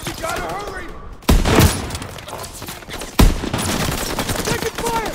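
Gunfire in Call of Duty WWII during a Battle of the Bulge mission: loud bursts of rapid automatic fire and heavy blasts crowd the scene, with shouted in-game voices mixed among the shots.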